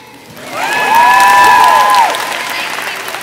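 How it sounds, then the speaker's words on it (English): Convention crowd at a live stage show clapping and cheering, applause swelling loudly within a second and holding, with shrill whistles and shouts on top before easing back down. "Clap for her."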